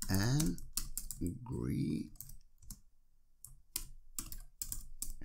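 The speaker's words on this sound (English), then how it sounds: "So let's type that in." Computer keyboard typing while entering a name during a digital forensics exercise, clusters of quick, close key clicks with brief pauses, following a short stretch of speech at the start.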